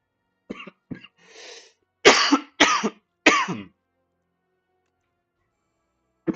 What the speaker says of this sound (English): I thought my cough was getting better.